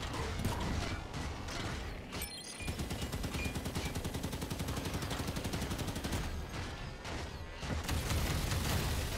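Rapid, continuous gunfire from massed turrets in the Halo 5: Guardians video game on Legendary difficulty, a dense rattling barrage that runs almost unbroken for the whole stretch, with one brief lull near the start.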